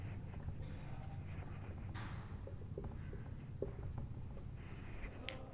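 Chalk or a marker writing on a board, with soft scratchy strokes and faint taps spread over several seconds under a dull room hum.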